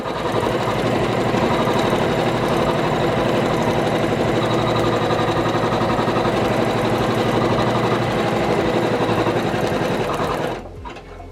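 An embroidery machine sews a tack-down placement stitch for an appliqué on a floated baby T-shirt, a fast, steady mechanical chatter that runs loud and continuous, then stops near the end.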